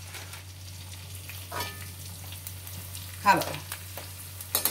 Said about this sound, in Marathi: आता थोडा थोडा डिंक घालून आपण तळून घेणार आहोत